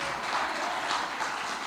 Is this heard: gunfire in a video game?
no